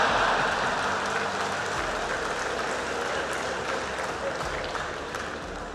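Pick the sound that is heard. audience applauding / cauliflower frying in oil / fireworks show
audience applauding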